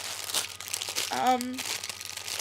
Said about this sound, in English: yes, there's crinkles